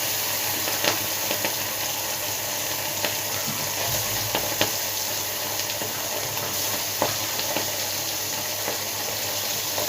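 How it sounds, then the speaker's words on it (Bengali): Marinated food spiced with chili powder, cumin, coriander, turmeric and salt sizzles in hot oil, a steady bright crackle with scattered pops throughout, no voices. "মশলা ভালো করে মেখে নিয়েছি, এখন ফ্রাই করব তেলে। তেল গরম হয়েছে।"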